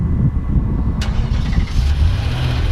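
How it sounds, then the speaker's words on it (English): A 2019 Infiniti QX80 Limited starts by remote start, with a sharp crank at about one second and then a steady, loud idle that runs over a low rumble. "you just lock the car and then push the remote start button"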